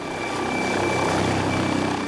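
An air ambulance helicopter flies over London, its loud, steady rotor thrum and engine whine filling the air, close and continuous with no talking.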